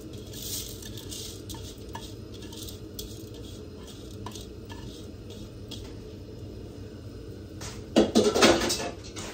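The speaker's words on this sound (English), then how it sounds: "I'm just gonna throw in my rice." Quiet kitchen clatter, then a quick rattling burst near the end as dry rice is poured into a pot.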